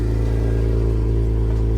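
A car engine runs close and loud with a steady low rumble and mild revving, heard alone without talk during a golf cart build session.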